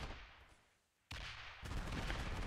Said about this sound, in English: I can hear a bomb going down